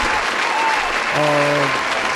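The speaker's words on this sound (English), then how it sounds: "Clap it up." Short burst of applause as a podcast sound effect, a steady wash of clapping with a faint tonal sting layered in, playing under a bit of voice.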